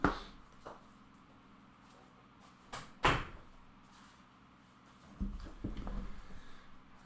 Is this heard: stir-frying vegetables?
no